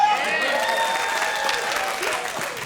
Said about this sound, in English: You guys cheering for an 18-year-old boy right now?